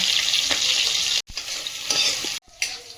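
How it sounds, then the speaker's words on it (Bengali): Radhuni seeds, bay leaves, split green chillies and ginger hit hot oil in a kadai, giving a loud, steady crackling sizzle close by, broken by two short silent gaps. "তেলের মধ্যে দিচ্ছি রাঁধুনি তেজপাতা চেরা কাঁচা লঙ্কা"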